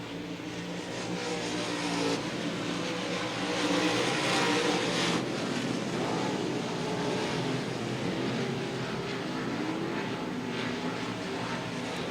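Dirt-track race cars with M&B custom chassis roaring past at Devil's Bowl Speedway, a loud continuous engine drone that swells as the pack passes and keeps revving through the whole stretch.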